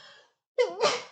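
A single sneeze bursts out after a brief quiet pause, a sharp close intake followed by a loud breathy expulsion, heard alone without talk.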